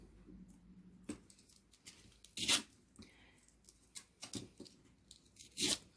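Short bursts of adhesive tape being pulled and torn, a few quick rips separated by quiet pauses, close by.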